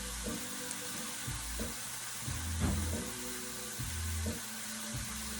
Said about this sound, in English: Just want to make sure that garlic got sauteed a little bit.